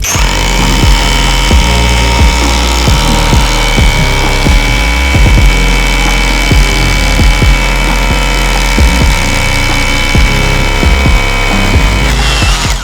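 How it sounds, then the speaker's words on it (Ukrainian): A Dnipro-M cordless brushless drill with a 12 mm bit bores a hole, a loud, sustained whine close by with repeated rhythmic pitch drops as the bit bites, and no talk. "У нього пішло всього на всього 13 секунд приблизно, щоб зробити цей отвір 12-тим буром."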